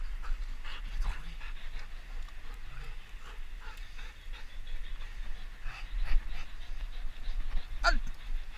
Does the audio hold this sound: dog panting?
yes